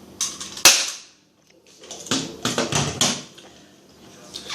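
An airsoft gun fires in sharp, close snaps: a single crack, then a quick run of several shots with a short gap between.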